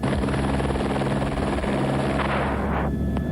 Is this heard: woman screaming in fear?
no